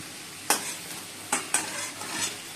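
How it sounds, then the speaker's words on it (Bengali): Bitter gourd and potato pieces fry in hot oil until reddish, a steady sizzle broken by a few sharp spatula strikes and scrapes against the pan. "লাল লাল করে ভেজে নিচ্ছি।"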